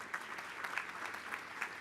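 A ceremony audience gives a short round of applause, the clapping faint and distant, steady over under two seconds.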